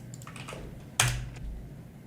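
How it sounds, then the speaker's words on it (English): A Windows PC keyboard gives a few soft, close keystrokes, then one sharp, louder clack, heard alone over faint room noise. "Windows PC keyboard."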